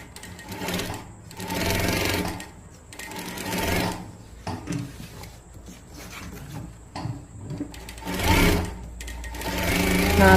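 A sewing machine stitching a blouse runs in several loud, whirring bursts of a few seconds each, separated by short pauses, close up, with voices faintly present between runs.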